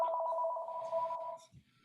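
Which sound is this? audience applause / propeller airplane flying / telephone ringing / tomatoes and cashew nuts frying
telephone ringing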